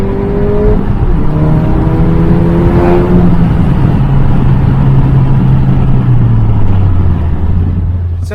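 Seat Ibiza Cupra with the muffler removed, its engine revving loud and raw from inside the car, with a long downward-sliding tone as the revs change. The drone is steady and close, and no one speaks.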